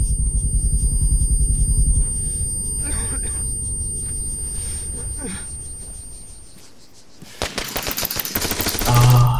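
Automatic gunfire in the military shooter Arma 3, a long sustained burst of rapid shots over rumble for the first seconds, a quieter lull, then a sharp renewed volley near the end.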